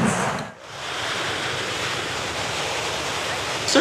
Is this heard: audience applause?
no